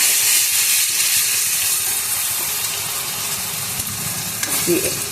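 A steady, loud sizzle of onion, ginger, garlic and green chili paste frying in a hot pan, with a constant hiss and a faint clink near the end.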